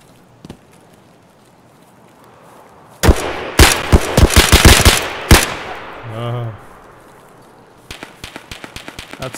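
Sustained automatic gunfire from a squad in Escape From Tarkov, a loud dense burst of rapid shots lasting a couple of seconds, then a lingering tail and a later run of sharper shots, with some talk heard.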